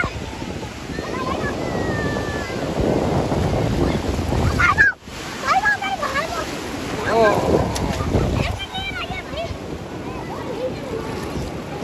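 Ocean waves surge and crash onto the seashore amid gusting wind buffeting the microphone, with excited voices talking and calling out over the roar of the water.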